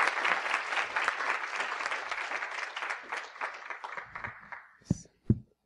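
An audience applauds to welcome a speaker at a lecture on Christian and Muslim perspectives, the clapping strong at first and then thinning out, followed by a couple of brief thumps near the microphone.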